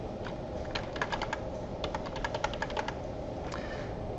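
Keys clatter on a computer keyboard while a password is typed, giving a quick, irregular run of close clicks over a soft steady hiss, with no voices.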